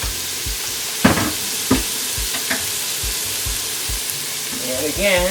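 Sliced jalapeño is stirred into greens frying in a pan, giving a loud continuous sizzle with a few sharp spoon scrapes, while someone talks briefly over it near the end.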